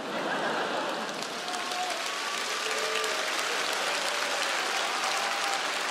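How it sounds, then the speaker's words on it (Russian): Theatre audience applauding in a hall during a comedy show, a steady, dense wash of clapping that holds evenly throughout, with faint voices briefly mixed in. "Зрители в зале смотрели на Евгения и, поражаясь его таланту, аплодировали."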